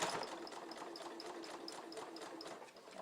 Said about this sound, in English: we're just going to sew right across a few times just to make sure we've got our elastic well sewn into our sweaty band